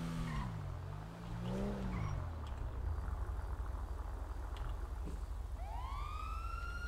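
A police car siren winds up and wails loudly nearby over rumbling traffic, with a low engine drone and a rising tone sweep near the end.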